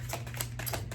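Tarot cards being shuffled by hand, a quick run of soft papery riffles and taps close to the listener, faint and steady with no talking.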